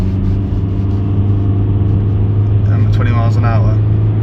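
Car engine revving hard with the throttle held flat to the floor under full acceleration, on an insurance write-off Audi RS6 with a suspected fault; a steady loud rumble runs throughout while a voice talks over it.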